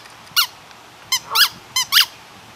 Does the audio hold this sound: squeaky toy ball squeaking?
yes